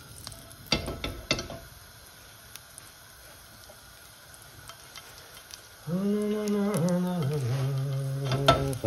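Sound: garlic sizzling in guanciale fat in a pan

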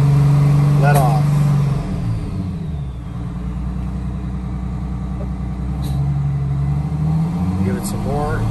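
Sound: engine revving with air throttle opened

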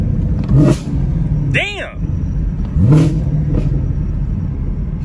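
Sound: car engine revving on downshift

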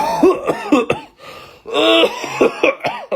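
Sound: imitated coughing

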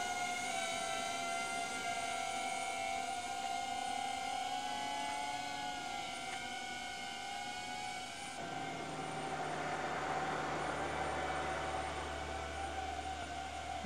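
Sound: DJI Avata 2 drone flying

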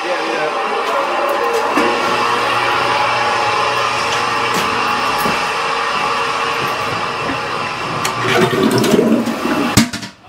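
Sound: toilet being flushed

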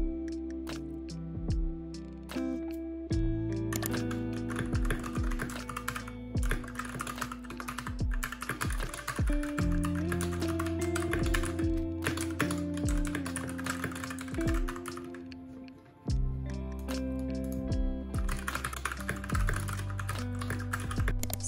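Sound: typing on a computer keyboard to transcribe notes

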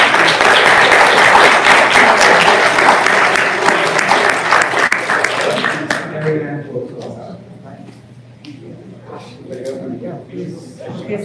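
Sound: audience applauding panelists

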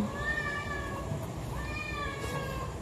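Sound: cat meowing

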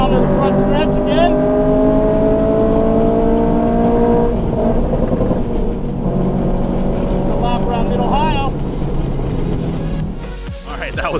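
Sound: race car engine on track at Mid-Ohio

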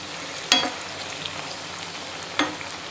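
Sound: potato tikki shallow frying in oil

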